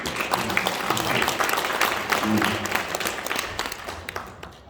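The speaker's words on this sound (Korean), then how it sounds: "여러분 한번 격려의 박수." Breakfast forum audience in Honam gives a round of lively, close applause for a lecture guest, dense clapping that holds steady and fades slightly at the end.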